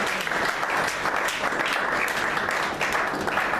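A church congregation applauds for Jesus during a large gathering, producing dense, sustained clapping that fills the room at an even level for several seconds.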